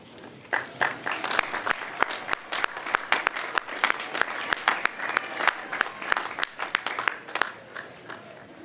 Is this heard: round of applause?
yes